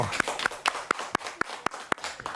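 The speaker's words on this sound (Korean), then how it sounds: "자, 박수." People clap in unison during an exercise class, about nine crisp, evenly spaced claps at a brisk steady rhythm, close and fairly loud with little else around them.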